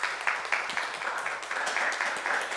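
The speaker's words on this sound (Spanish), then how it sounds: "le damos un fuerte aplauso" An audience applauds a guest speaker at the close of a mathematics talk, a steady dense patter of clapping from many hands filling the room without pause.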